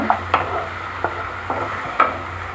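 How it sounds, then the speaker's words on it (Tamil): Ginger and green chilli sauté in oil over a medium gas flame, a low sizzle beneath a few sharp, regular spoon taps and scrapes against the pan, close by with no voices. "இதை வந்து கேஸ் வந்து மீடியம் ஃப்ளேம்லேயே வச்சு இந்த எண்ணெயிலே வந்து வதக்கிடுங்க"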